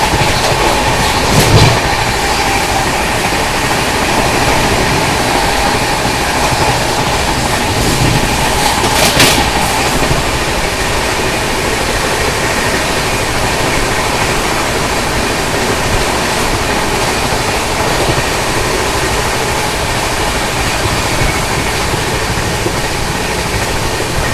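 The Bandra Terminus–Hazrat Nizamuddin Yuva Superfast Express, with new LHB coaches, runs fast on the rails at night, making a loud, steady rumble and rush of wheels with a couple of sharp clanks. No one speaks.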